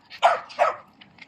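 A dog barks twice in sharp, close bursts, followed by a couple of fainter yips, sounding agitated on spotting other dogs.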